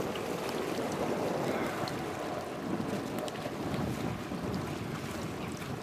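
Wind buffeting a boat out on Lake Erie, a dense, loud rushing roar with gusting microphone noise and hints of water slapping the hull, continuous throughout with no talking.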